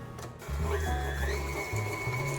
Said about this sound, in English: In the mixing bowl of an electric mixer, add 1 stick of butter, 1 cup of sugar, and beat that until fluffy.